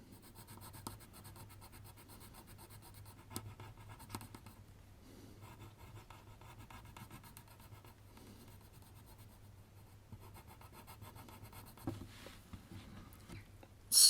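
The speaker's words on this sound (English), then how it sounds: "I'm using an HB pencil on color copy paper" An HB pencil drawing on color copy paper gives soft, close, intermittent scratching and rubbing strokes, quiet and steady with short pauses between them.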